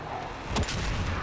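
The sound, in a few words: bomb explosion in DCS F/A-18C flight simulator video game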